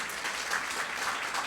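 A church congregation clapping together during a worship service, a brief, steady wash of many hands applauding at a moderate distance.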